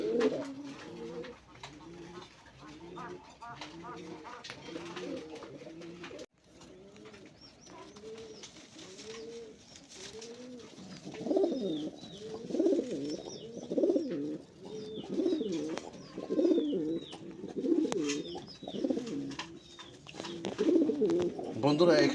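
A male Maxi Racer racing pigeon gives a long run of rhythmic, evenly spaced coos up close, followed by a busier stretch of overlapping cooing; a person talks faintly at points.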